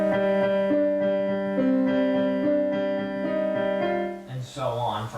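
Piano plays the Shin Gojira theme: sustained, ringing chords with a slow repeated bass figure, changing every second or so, fading out as a voice begins speaking near the end.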